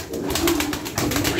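A tumbler pigeon coos in a few rounded, throaty pulses, close and fairly loud with a faint rustle beneath.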